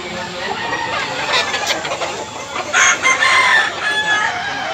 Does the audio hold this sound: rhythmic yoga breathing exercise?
no